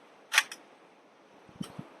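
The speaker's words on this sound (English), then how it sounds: "did you hear that sound of the shutter?" Shutter release of a film camera mounted on a tripod outdoors in a churchyard, a crisp double mechanical click followed about a second later by softer low clunks from the mechanism, close and quiet.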